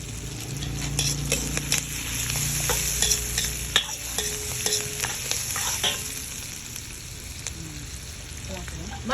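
Onion and garlic sautéing in a pan for a home-cooked lunch, a constant close sizzle broken by frequent clinks and scrapes of a utensil stirring against the pan, with faint voices in the background.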